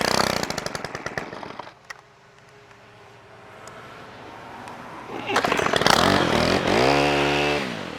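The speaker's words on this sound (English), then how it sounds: "Got my little chainsaw on the end of it here too." A Stihl pole chainsaw trims trees at a property in The Villages, Florida, its small engine buzzing and revving close by in two bursts separated by a quieter lull, with the pitch climbing sharply in the final rev.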